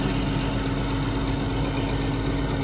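A tractor, once owned by a construction outfit, idles steadily just after a cold start, a continuous low rumbling engine drone at close range with no talk.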